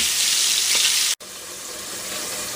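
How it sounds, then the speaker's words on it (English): Food sizzles and crackles steadily in hot oil, a close, bright hiss briefly cut by a sharp gap before continuing. "The rest of it's still frying."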